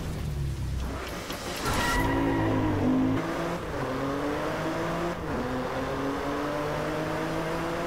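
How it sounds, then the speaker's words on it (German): A Ford drift car slides through a drift zone in the racing game Driveclub, its engine holding a loud, steady high rev with rising and falling pitch and a faint tire squeal underneath, continuous for the whole stretch. "Ich muss in die Driftzonen driften."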